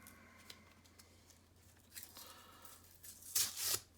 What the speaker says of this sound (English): let's take her tape off